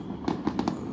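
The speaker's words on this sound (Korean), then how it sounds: "막상 눈앞에서 불꽃놀이를 보니까" Fireworks burst four times in quick succession, faint and distant, in footage of a fireworks display played back in a church service.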